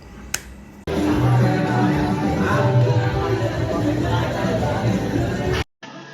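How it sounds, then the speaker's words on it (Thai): Busy gym ambience with loud music playing and a steady wash of crowd noise, preceded by a brief sharp tap, then abruptly cutting off. "ก็เสียงในยิมก็จะประมาณนี้นะครับ"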